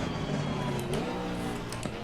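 GT4 race car engine in Assetto Corsa Competizione, heard from close by at steady volume, its revs shifting and dropping as it downshifts, with brief sharp clicks near the end.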